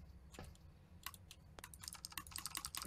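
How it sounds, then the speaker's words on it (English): Quick, irregular clatter of computer keyboard keys, likely a laptop, with scattered taps early that thicken into a steady run of typing toward the end, close and fairly quiet. "Stop typing in porn on your computer, Devin."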